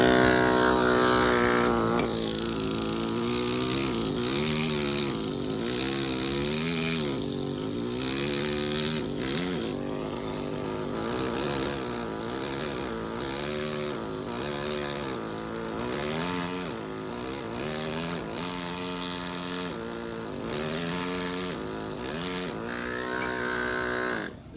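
Pneumatic carving machine cutting a life-size bas-relief angel in stone, a loud continuous buzzing hammer with rhythmic surges and short pauses throughout, close by and alone.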